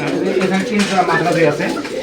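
Madrasi pigeons coo in soft, repeated low calls at a pigeon farm in Durgapur, Rajshahi, with a voice talking over them close by.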